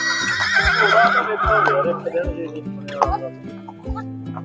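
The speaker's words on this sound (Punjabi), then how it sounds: "ਗੋਬਿੰਦ ਸਟੱਡ ਫਾਰਮ ਤੋਂ ਗੁਲਬਾਗ ਘੋੜਾ ਦੇਖ ਸਕਦੇ ਹੋ ਵੀ ਕਿੰਨਾ ਸੋਹਣਾ ਘੋੜਾ ਹੈ" A stallion at a stud farm gives a loud, close whinny that rises and trails off, followed by softer snorts and rhythmic thumps of movement.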